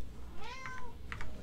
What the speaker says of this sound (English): Yes, cat, I know you're hungry.